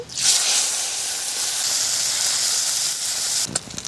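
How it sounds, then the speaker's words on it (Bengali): Loud, steady sizzling of fish frying in hot oil, a continuous bright hiss that holds for several seconds before a few clattering sounds at the end. "তেল গরম হয়ে গেছে, মাছগুলো দিয়ে দিচ্ছি।"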